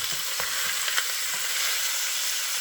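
Ground beef is laid into a hot pot and sears with a dense, steady sizzle and crackle, close and fairly loud, with a few sharper pops.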